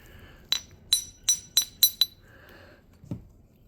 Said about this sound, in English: this one rings like a nice bell here.